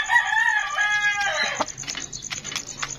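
A Boston Roundhead gamecock rooster lets out a short, close crow that trails off, followed by faint clucks and backyard rustling.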